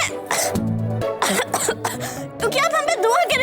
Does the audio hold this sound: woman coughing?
yes